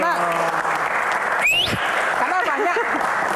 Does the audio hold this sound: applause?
yes